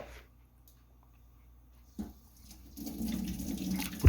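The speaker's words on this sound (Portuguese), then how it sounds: "Por que eu estou passando essa água na mão agora, no tomate novamente, já que eu já tinha lavado?" Tap water runs over hands and a tomato at a kitchen sink while cooking an easy tuna pie, a quiet room giving way to a steady, close splashing stream that grows fuller toward the end.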